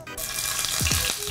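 Falafel-stuffed tomatoes sizzle loudly in hot oil, a dense, close frying hiss with a few bubbling pops and no talk.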